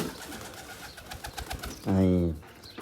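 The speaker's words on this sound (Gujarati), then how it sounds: "આ ટ્રેન કરેલું કબૂતર છે" A trained pigeon gives a loud, close coo lasting about half a second near the end, after a stretch of quieter background murmur and faint room noise.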